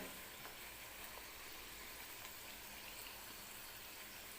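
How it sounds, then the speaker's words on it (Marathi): Pea puris fry in oil over a low gas flame with a faint, steady sizzle and crackle, an even hiss running unbroken from start to finish. "तर बारीक गॅसवरतीच ह्या पुऱ्या ज्या आहेत ते मी तळून घेणार आहे"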